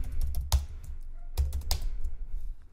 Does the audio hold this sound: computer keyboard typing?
yes